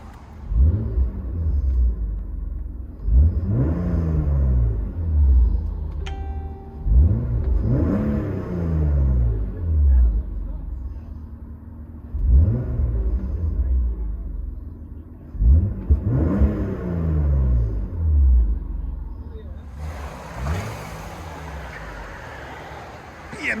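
A 1995 BMW M3 3.0L inline-six with dual exhaust, resonator delete, revs inside the cabin: five or six deep blips, each swelling and dropping away in a regular rhythm, with a brief tone and some hiss near the end.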